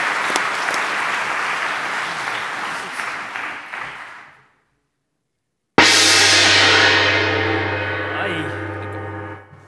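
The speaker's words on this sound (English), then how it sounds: "hopefully you can give them a round of applause alongside us" Audience applause fills a conference hall during a cryptography rump session, loud and dense for about four seconds, fading to silence, then a second burst of heavy clapping with a low ringing hum and a few whoops.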